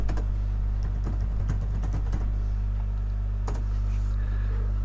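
Typing on a computer keyboard, a scattered run of close key clicks in quick bursts with a pause, over a steady low electrical hum.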